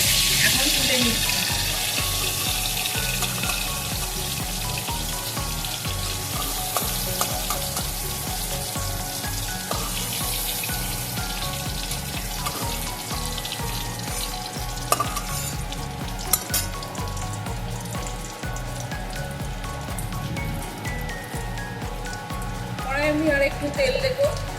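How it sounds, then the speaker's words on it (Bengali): Cauliflower fries in hot oil with a steady, dense sizzle and occasional stirring clatter, close by, while a voice talks over it. "ফুলকপিটাও আমি লাল লাল করে ভেজে নিয়েছি"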